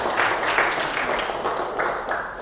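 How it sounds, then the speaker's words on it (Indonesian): A classroom of students claps together for a classmate, a brief burst of brisk, uneven applause at close range with no talk over it. "Tepuk tangan."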